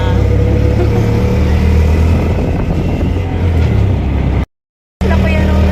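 A motorcycle engine runs steadily and loudly throughout, a low droning hum with some road noise, cut by a brief gap of silence near the end.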